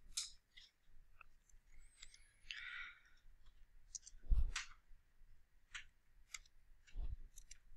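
Typing on a computer keyboard produces sparse, quiet, close clicks and taps scattered irregularly over a near-silent background, with one heavier thump partway through.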